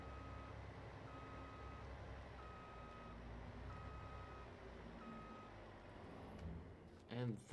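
Reversing beeps from a truck in the Farming Simulator 22 video game: a quiet, evenly spaced series of single electronic tones repeating about once per second, followed by a brief voice at the very end.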